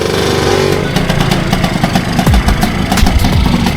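A Yamaha MX motorcycle engine runs in a city street in Medellín, Colombia, a steady rough mechanical drone with a few louder revving swells, close and fairly loud, and no talking over it.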